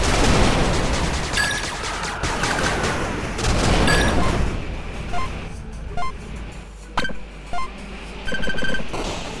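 Gunfire in the video game 8-bit Armies as units attack a scorch turret: rapid bursts of shots and booms, loud at first and then thinning into scattered volleys with short electronic beeps.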